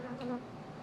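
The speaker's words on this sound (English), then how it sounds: "But the bees clean out the wet supers." Honey bees buzz around hive boxes in a short, close burst of droning hum.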